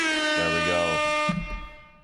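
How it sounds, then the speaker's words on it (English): A double air horn sounds as a loud, sustained blaring blast that cuts off abruptly, followed by a short low sound as it fades. "Can we get a double air horn on that one?"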